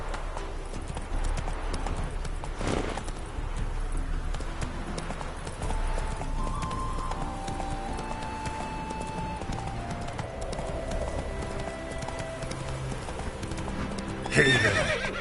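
Roach, a horse in The Witcher 3, gallops with loud, rapid, rhythmic hoofbeats, whinnies at moments and draws a spoken word under soft background music, ending with a sharp louder clatter.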